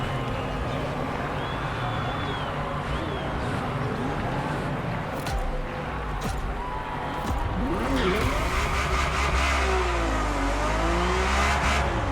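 A Ferrari F50 engine drones loud and steady as the car drives, rising in intensity toward the end, with a brief tonal whine and some faint talk over the top.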